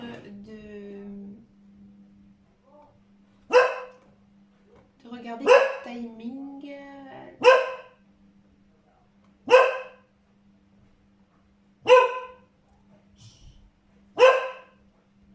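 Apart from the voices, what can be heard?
dog barking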